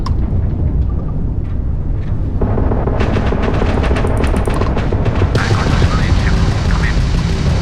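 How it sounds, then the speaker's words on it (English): Spaceship weapons fire in a Starfield space battle, a dense run of rapid blasts and booming impacts over a steady roar of engines and music, loud and continuous throughout. "The ship's weapons are powering up."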